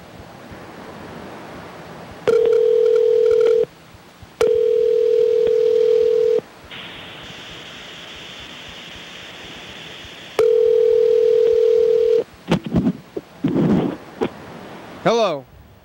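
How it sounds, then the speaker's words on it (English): A telephone places a call back. Loud steady tones come in separate blocks with short gaps, followed by a higher sustained tone, then a few brief choppy bursts near the end. "so let's call Yellow Fellow back"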